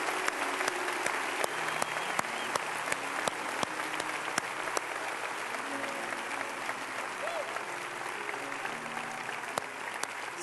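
A church congregation claps loudly and continuously at a Sunday Easter service, a dense steady wash of applause with scattered cheers and voices mixed in throughout.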